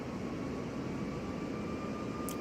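Steady, even drone of an Airbus A319 with IAE engines in Microsoft Flight Simulator 2020, a continuous broadband engine roar holding at constant loudness with no voices.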